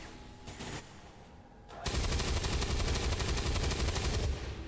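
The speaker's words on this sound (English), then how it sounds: "okay, I'll shoot him" Sustained rapid gunfire from XCOM 2 bursts in loud and dense after a quieter stretch of low game ambience, rattling continuously for over two seconds before easing off.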